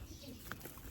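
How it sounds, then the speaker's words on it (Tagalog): A single soft bird call rings out briefly over a low, steady background hum. "may ibon"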